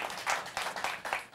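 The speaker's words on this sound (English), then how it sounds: "Yeah, clap for that." An audience claps in several short bursts of applause at a live comedy monologue, rising and falling across a brief moment with no speech over it.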